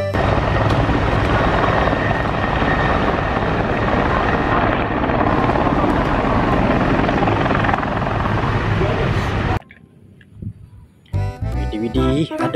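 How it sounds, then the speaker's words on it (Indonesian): Loud, steady whirring chop of a helicopter for about ten seconds, then it cuts out, followed by brief talking near the end. "Wow, ada helikopter."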